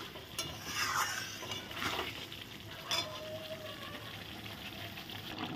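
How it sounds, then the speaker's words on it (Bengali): Pointed gourd (potol) curry simmering and bubbling in a pan at home, with a steady close sizzle and soft stirring scrapes, loudest in the first few seconds, with no voices. "দিয়ে এখন একটু আমি ভালো করে ফুটিয়ে নেব।"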